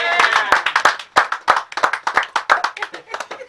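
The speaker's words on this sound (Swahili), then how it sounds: "Pigia huyu daktari makofi." A small group claps for a graduate, a quick uneven burst of hand claps close by, with some voices mixed in among the claps.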